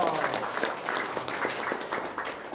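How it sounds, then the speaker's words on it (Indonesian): Sustained applause from an audience at a religious gathering, a steady dense patter lasting the whole moment with no pauses. "tepuk tangan dong"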